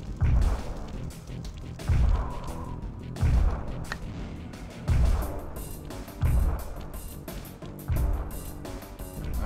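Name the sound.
explosion in Sly Cooper video game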